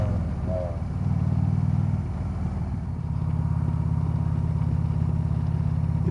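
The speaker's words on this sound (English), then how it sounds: "Your car sounds like shit" Another car's engine heard during a motorcycle ride, a steady low idling drone with a rough, pulsing throb, close and continuous, blended with the motorcycle's own engine hum.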